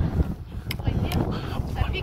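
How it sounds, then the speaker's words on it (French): Strong cold wind buffets the microphone outdoors on Île de Ré on a freezing winter hike, a steady low roar with gusty swells and a few brief higher blips. "Il y a du vent, hein. Je sais pas si vous l'entendez."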